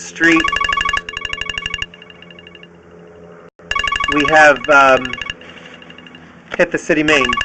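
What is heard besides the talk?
mobile phone ringing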